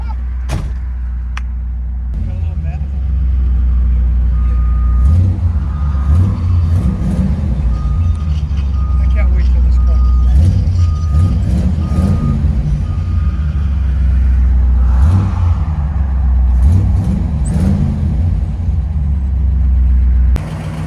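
A 1955 Ford Crown Victoria with a 292 V8 and Flowmaster Flow FX exhaust rumbles steadily at close range, its deep idle swelling in several throttle blips, with faint speech early on.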